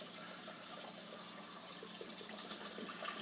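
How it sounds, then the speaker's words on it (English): Water rushes out through a siphon in a homemade science project, a continuous gushing drain like a big toilet flush that grows slightly louder and more turbulent toward the end. "So you'll see the siphon action hit. Ready? Here it comes. It's going to be like a big flush."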